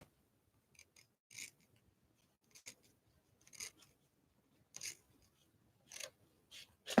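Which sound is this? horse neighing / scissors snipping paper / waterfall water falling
scissors snipping paper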